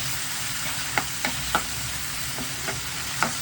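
Tomatoes fry in a pan for biryani under a steady, even sizzle, while a spoon scrapes and taps against the pan a few times at irregular intervals, close and with no talking.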